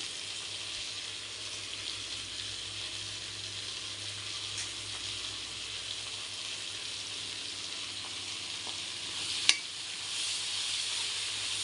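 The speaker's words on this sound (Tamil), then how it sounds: "தக்காளி ஆட் பண்ணி அதையும் சேர்த்து வதக்கிடுவோம்" Chopped homegrown tomatoes sizzle steadily in a hot pan of oil for a brinjal and drumstick curry, a continuous close frying hiss with one brief clink of a utensil near the end.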